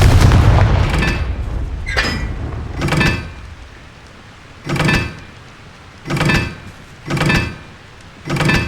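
Repeated Confringo fire-spell blasts in a Harry Potter video game, about six booming bursts spaced irregularly, loud and close, with a lingering rumbling background between impacts.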